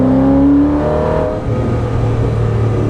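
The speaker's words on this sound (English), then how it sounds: "with that engine mounted right behind you, it's a very visceral experience driving the Ford GT." A Ford GT's rear-mounted engine and exhaust drone steadily and loudly while driving, with a strong low rumble and rising harmonic whine in the first second, then a constant heavy engine note, no talking.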